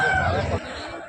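A rooster crows briefly and loudly, cut short after about half a second, with background noise from a busy poultry market in Gokavaram.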